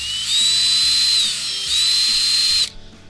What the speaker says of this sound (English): We're just going to make some marks here with our drill